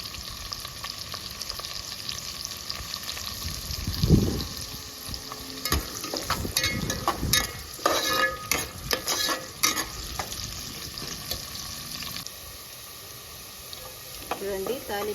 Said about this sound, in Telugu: చూడండి తాలింపు బాగా ఫ్రై అయింది